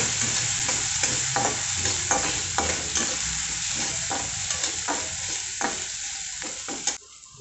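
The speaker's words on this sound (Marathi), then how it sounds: "आता हे सर्व आपण छान परतून घेऊया।" Chopped ingredients with green chili paste sizzle in a pan, stirred in a steady rhythm of regular scraping strokes over continuous frying, close and clear with no talk.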